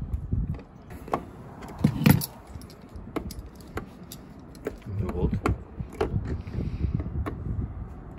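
A slipping car window crank turning as the window closes, giving soft clicking and ratcheting mechanical knocks that repeat irregularly over several seconds, close by, with low rumbling handling noise beneath.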